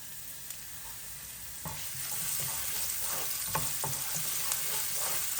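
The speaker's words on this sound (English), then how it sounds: "once the oil and ghee are hot, I'm going to throw in the ginger and chili" Ginger and green chilies sizzle and crackle in hot oil and ghee, a steady frying hiss with small pops and stirring clatter that thickens after the first couple of seconds, with no talking.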